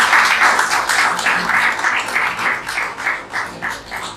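Audience applause for a professor introduced at a lecture event, a dense wash of clapping that swells and fades in rhythmic waves across the whole stretch, loud and close, with no talk over it.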